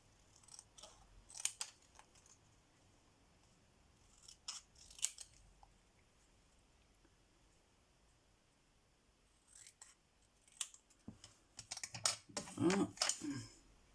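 Scissors snip through paper for a bookmark in a few short, crisp bursts, first spaced apart, then a quicker run of cuts near the end.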